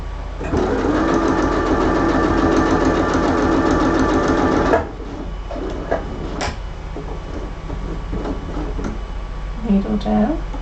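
A sewing machine runs steadily for several seconds while stitching fabric for a corner bookmark, then stops; softer handling clicks and a voice follow.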